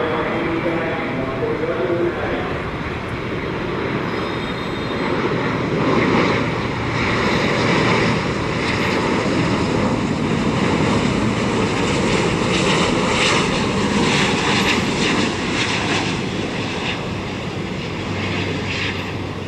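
A Vietnam Airlines Airbus A350-900 lands on runway 25R at Tan Son Nhat airport, its jet engines giving a loud, sustained roar that swells and holds steady throughout.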